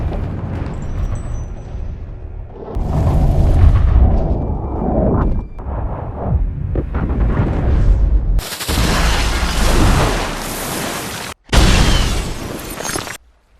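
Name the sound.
grenade explosion in a film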